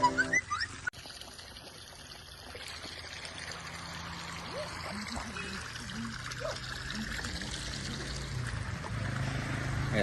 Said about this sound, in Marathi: बघा बघा धबधबा. कडकवाला धबधबा. एवढं एवढंच पाणी येते गाईज.